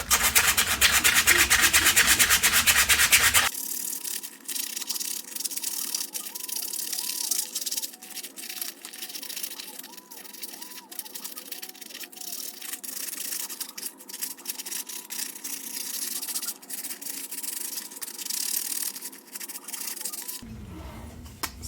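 Rough edges of a 3D-printed mask being sanded by hand: steady, close scratchy rubbing strokes that continue for most of the time, quiet and alone.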